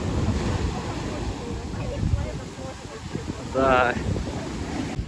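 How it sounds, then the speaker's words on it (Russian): Large storm waves, about one and a half to two metres high, crash and surge onto a beach on Koh Samui, Thailand. Wind roars steadily over the surf, and a voice briefly speaks nearby. "Смотрите, смотрите, какая волна!"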